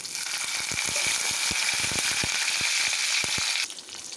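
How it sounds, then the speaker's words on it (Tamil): Mustard seeds, cashews and split lentils frying in hot oil for upma, a steady close sizzle scattered with sharp popping crackles, alone with no talk, briefly quieter at the end. "இந்த கடுகு பொரிஞ்சிருச்சு. முந்திரி பருப்பு, உளுத்தம்பருப்பு, கடலப்பருப்பு போட்டுட்டேன்."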